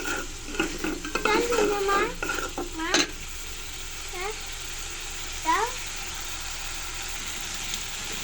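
Spices being sautéed with bitter gourd in a pan, with a steady sizzle and scraping stirs that come in bursts early on, then a quieter fry with a few clinks and some background noise.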